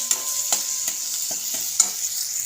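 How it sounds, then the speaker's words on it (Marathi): Spices and coriander being stirred and sautéed in a pan for a tadka, with a steady low sizzle under a handful of sharp scraping strokes of the spoon against the pan. "आता यात थोडंसं आपण कोथिंबीर ॲड करूया आणि ते पण 1 मिनिटभर असं परतून घेऊया"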